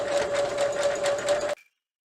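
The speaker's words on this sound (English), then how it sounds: "take it to your sewing machine and sew all the way around to hem your skirt" A sewing machine runs steadily for about a second and a half with a rapid stitching rhythm while hemming a skirt, then stops abruptly.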